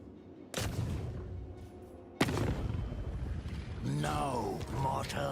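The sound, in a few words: mortar fire in a video game (Khazrak)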